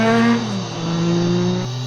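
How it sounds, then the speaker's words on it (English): A three-cylinder engine on a 2002 Triumph Daytona 955i motorcycle howls at high revs through its exhaust, its pitch dropping briefly as it shifts, then climbing again in a steady drone. "I love that howling 3-cylinder exhaust note."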